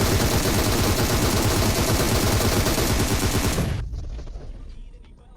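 Gunfire in the mobile game PUBG Mobile rattles out as a loud, dense burst of rapid shots for several seconds, then cuts off and fades away.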